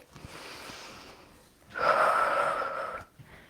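Heavy exhaled breaths during a home cardio workout, a steady breathy rush building into one long forceful blow-out near the microphone, with a few faint sounds around it.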